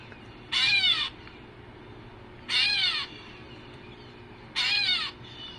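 A backyard bird gives three clear, cat-like mew calls, each about half a second long and spaced roughly two seconds apart, close and distinct over a quiet outdoor background.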